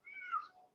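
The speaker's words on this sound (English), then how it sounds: "I love it when you meow." A cat gives a single short meow, fairly faint and close, rising then falling over under a second, with no talk over it.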